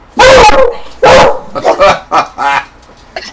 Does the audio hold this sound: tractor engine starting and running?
no